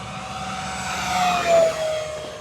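E-flite P-47 Razorback V2 1.2 m electric RC model plane in flight, a steady whining motor hum with a rising, close pass near the middle before easing off.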